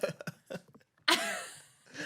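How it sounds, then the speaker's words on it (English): A few short voiced sounds give way to one loud, harsh cough close to the microphone, which trails off into a breathy exhale. "You like faked the cough and everything"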